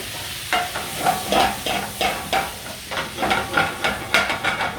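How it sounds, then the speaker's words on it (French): A pan deglazed with Gewürztraminer white wine after shallots, giving a loud steady sizzle and hiss with rhythmic scraping stirs roughly twice a second, close by and with no voices. "Je vais déglacer au vin blanc, au Gewürztraminer donc."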